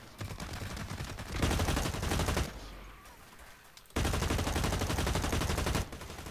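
Automatic gunfire in the online shooter Blacklight Retribution: two long rapid-fire bursts of rattling shots separated by a brief lull, fairly loud and steady, with no talking.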